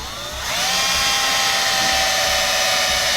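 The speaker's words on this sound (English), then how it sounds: "I'm going to drill a hole here so that it can come in from behind" Power drill boring a hole in an interior panel of a Ford F150, a close, steady high-pitched whine that starts abruptly after a brief lull and holds evenly to the end.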